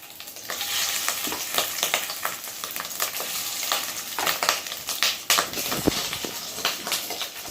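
Fish roe fritters of katla frying in hot oil, an intense continuous sizzle broken by frequent sharp pops and spattering crackles, close and loud, with no talk.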